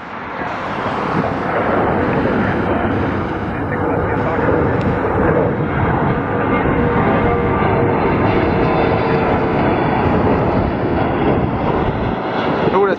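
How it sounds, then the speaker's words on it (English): Canadair CRJ-900 regional jet departing Atlanta airport, a loud steady roar of jet engines sustained throughout, broadband and close, with some wind buffeting on the microphone. "Canadian Regional Jet."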